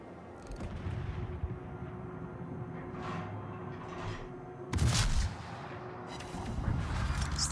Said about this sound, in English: Is the Jaguar shooting its guns? It is.